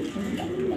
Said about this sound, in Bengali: মাদি কবুতর এলো, মাদি কবুতরটা